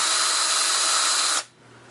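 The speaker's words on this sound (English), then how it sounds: "Drill a little bit more here." A power drill boring out a wheel rivet during a wheel swap, a loud steady high-pitched whine that cuts off abruptly near the end, leaving quiet room tone.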